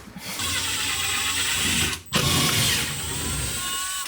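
A power driver backs out the screws that hold down a stove aboard a sunken catamaran under rebuild, a loud continuous whine that breaks off for a moment in the middle and then runs again close by.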